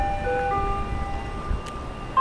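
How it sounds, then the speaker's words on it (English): Ice cream truck jingle outside a Myrtle Beach resort, a thin tinkling tune of sustained tones played at moderate distance over low street rumble, brief and without talk. "And you got ice cream truck"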